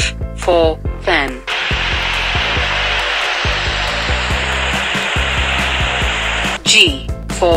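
A steady, loud whooshing hum of an electric fan runs for several seconds between brief bits of talk.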